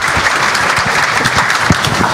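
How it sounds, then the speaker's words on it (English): An audience at the FOSDEM open source conference applauds as a speaker is introduced, with dense, steady clapping filling the hall at close range. "Let's applaud Carol."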